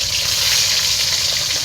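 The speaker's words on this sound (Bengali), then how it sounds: "দেখুন কেমন খপ খপ করে ফুটে উঠছে মাছগুলো" A large batch of fish frying in hot white oil gives off a loud, steady, dense sizzle that crackles evenly throughout, with no voices over it.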